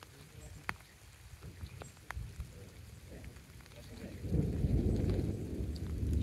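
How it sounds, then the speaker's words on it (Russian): Steady rain pattering outdoors on a mountain trail near Old Manali at about 2,600 m, with a low rumble of thunder building and growing louder toward the end. "Снова пошел дождик."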